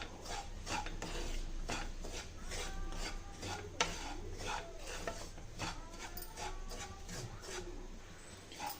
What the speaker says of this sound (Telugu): చూడండి ఇలా కలుపుకుంటూ రోస్ట్ చేసుకోవాలి.